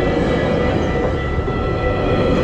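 A GO Transit train rumbles steadily along an at-grade section of track between Bloor and Davenport in Toronto, a continuous mid-distance roar of wheels and wagons with no horn or voices.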